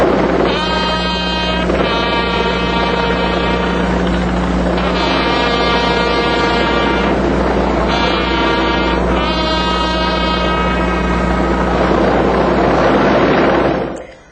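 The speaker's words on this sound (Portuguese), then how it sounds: "o último tom de despedida, é de responsabilidade da corneta" A bugle sounds a farewell call at a funeral, long sustained tones in several phrases rising and falling, loud and close over a steady low background hum, with no talk.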